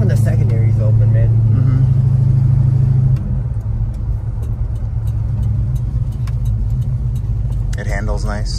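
A 1969 Dodge Coronet 440 runs with its carburetor secondaries open, a deep, loud and steady engine roar from inside the car, with people talking over it.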